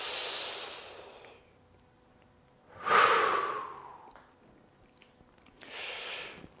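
Slow, deep yoga breaths, a long exhale followed by a rushing inhale and another exhale, close and fairly quiet with pauses between.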